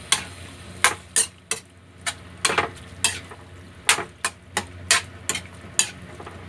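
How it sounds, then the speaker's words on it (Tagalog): Octopus and squash are stirred in a pan, with a dozen or so sharp scraping clacks of a utensil arriving in an irregular rhythm over a faint, steady simmer. "Haluin lang po natin."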